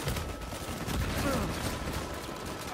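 Dense, rapid gunfire from an Uncharted 4 multiplayer match rattles on in continuous overlapping bursts, fairly faint and steady throughout.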